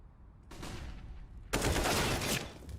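Galil rifle gunfire in a professional Counter-Strike match, a short burst and then a louder sustained volley of rapid shots, close and harsh, with no talk.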